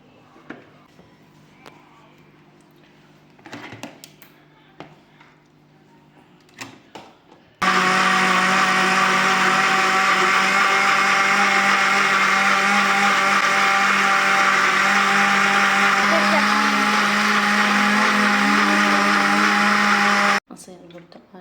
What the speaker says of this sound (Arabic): نخليه بالخلاط.